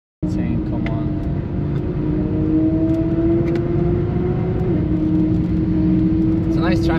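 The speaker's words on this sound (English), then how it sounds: "I can't believe we're chasing a GT3 RS with a Lucid." A 1111 hp Lucid Air electric car drives fast on the Nürburgring, chasing a Porsche GT3 RS. A steady, loud cabin drone runs throughout, with a faint electric whine that rises slowly in pitch.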